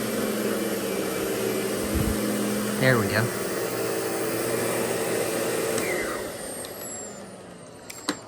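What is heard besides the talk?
Lindhaus Diamante 300 dual motor vacuum cleaner running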